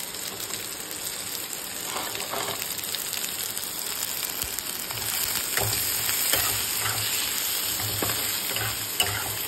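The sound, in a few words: frying ginger in a non-stick wok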